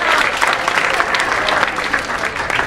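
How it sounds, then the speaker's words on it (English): A crowd claps steadily and loudly, a dense, even wash of applause sustained throughout without a break. "applause."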